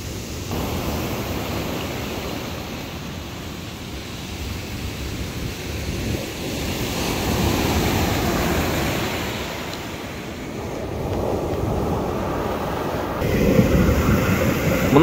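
Strong sea waves breaking on the shore at Trekhozerka in Primorsky Krai, a steady broadband roar of surf that swells and eases in long surges, close and loud, with no talk.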